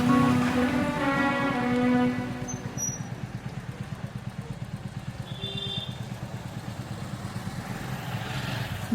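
A motorcycle runs with a steady, throbbing low engine pulse close by, faint chirps and clatter over it, after some brief tonal sounds at the start.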